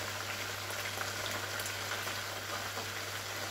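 Meat fries in a pot for biryani, giving a steady, soft crackling sizzle that holds even and unbroken throughout, with no voices over it.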